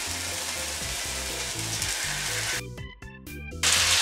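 Bean wraps fry in a hot pan of oil, giving a steady loud sizzle with bubbling crackle that briefly dips near the end before surging again.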